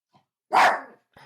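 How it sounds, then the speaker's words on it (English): One loud, close dog bark rings out clearly in a quiet room, with faint small sounds just before and after it. "My dog is barking."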